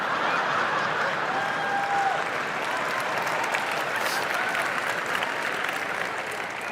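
An audience bursts into steady, dense applause at a live talk, a continuous wash of clapping hands that holds at full strength for several seconds before starting to thin slightly at the end.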